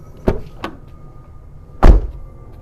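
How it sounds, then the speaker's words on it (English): Opening and closing of a Fiat 500 car door: two light clicks of the latch releasing, a pause, then a heavier solid thud as the door shuts, close and distinct. "So if I open the door and then close it again,"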